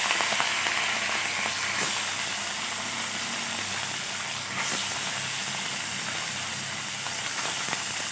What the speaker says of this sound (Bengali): এবার আমি এখানে মাছগুলো দিয়ে দিচ্ছি।